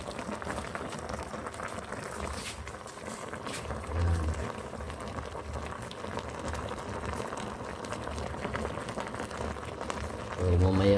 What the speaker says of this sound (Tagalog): Kumukulo na guys.